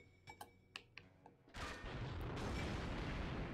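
In the video game 007: Agent Under Fire, scattered sharp gunshot cracks give way to a loud grenade explosion that becomes a dense, sustained roaring blast filling the rest of the moment.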